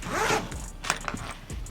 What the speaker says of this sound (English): The zipper went up.